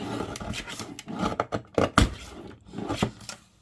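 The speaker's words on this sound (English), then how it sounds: "I'm just going to trim the bottom of that." Paper from a book page is trimmed along its bottom edge for a folio journal: a close, uneven run of short, crisp snips and rustles with brief pauses between them.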